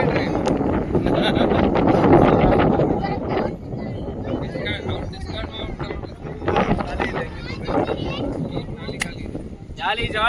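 Strong wind buffets the microphone on the Avani Betta hilltop, a loud continuous rumbling roar that surges and eases, with people talking through it.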